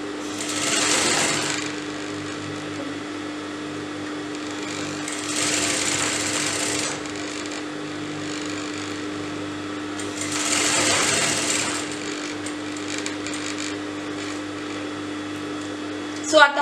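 A sewing machine stitches fabric pieces to a keyhole neckline, running in three rapid whirring bursts separated by pauses over a constant low hum.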